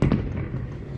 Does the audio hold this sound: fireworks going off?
yes